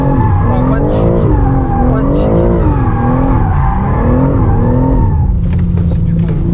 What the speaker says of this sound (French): Elle adhère plus, les pneus sont trop durs.